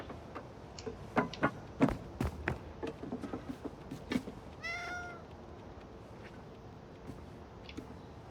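A cat in the video game Indiana Jones and the Great Circle gives a single clear meow midway, among scattered soft ticking and tapping sounds, with no speech.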